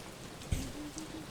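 Rain falls in a video game as a soft, continuous hiss, with one brief low thump near the middle and faint tones in the background.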